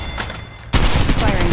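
Gunfire in the battle-royale shooter Apex Legends: a loud, close burst of rapid shots erupts abruptly midway after a quieter stretch of game ambience.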